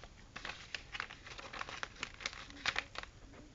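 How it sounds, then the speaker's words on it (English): Paper crinkles and rustles close up as a sheet is folded into a paper airplane, a steady run of soft crackles and scrapes with a few sharper creases, fairly quiet. "So you fold up the airplane"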